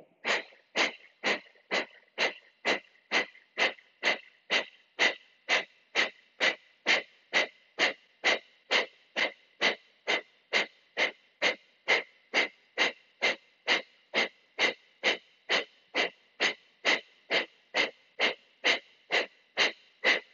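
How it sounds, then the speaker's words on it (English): Yoga breathing exercise: a long series of about thirty-five rapid, forceful, evenly spaced breaths with a wheezy, rushing quality, close and steady, with no talk. "Start by taking a deep breath in."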